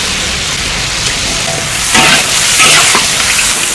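Duck pieces sizzle loudly in a hot wok with oyster sauce and soy sauce, a dense, steady frying hiss with scraping stir strokes swelling partway through.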